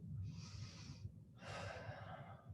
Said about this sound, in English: Keep breathing for 5